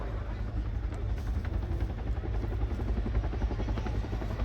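Steady, heavy thudding tandem-rotor beat of a Chinook helicopter at an air show, loud and close, with a deep throbbing low end and no pauses.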